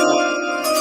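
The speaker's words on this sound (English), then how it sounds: "Let me go with the draft chime here." Draft chime sound effect from an NFL draft show, a single sustained bell-like tone with bright ringing harmonics that holds steady and clear, with no talking over it.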